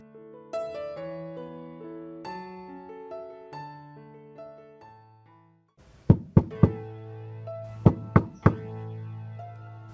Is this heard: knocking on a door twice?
yes